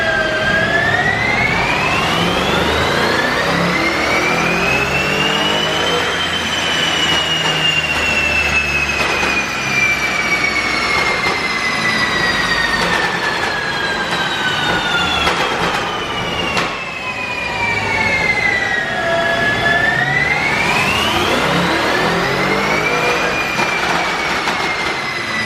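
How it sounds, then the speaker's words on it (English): A tuned 2020 BMW M550 engine on a dyno sweeps up and down in long, loud pulls, its strong rising and falling whine steady for the whole stretch, with no voices over it. "I'm gonna then make some dyno hits"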